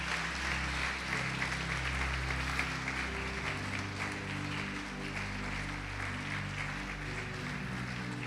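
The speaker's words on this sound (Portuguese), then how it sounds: "Pode aplaudir o Senhor e glorificar a Deus." A church congregation applauds in praise during a sermon, a soft, continuous patter of many hands over a sustained organ or keyboard drone, fairly distant and low in level.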